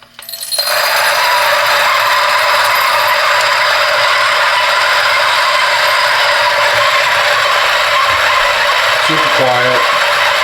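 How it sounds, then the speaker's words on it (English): A DF64V coffee grinder with SSP multi-purpose burrs runs at 600 RPM, a loud continuous whirring grind that starts sharply and holds steady near the mic, with a few faint clicks near the end. "Turn the grinder on. We're at 600 RPM."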